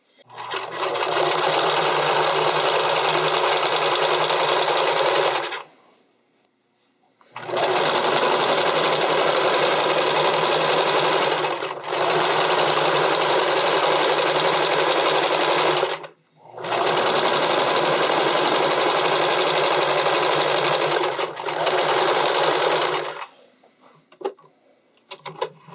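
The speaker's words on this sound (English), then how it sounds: "you want to aim to stitch close to this edge of the elastic" A sewing machine zigzag-stitches stretched elastic onto bodysuit fabric, running loud and close in four long continuous bursts separated by brief silent pauses.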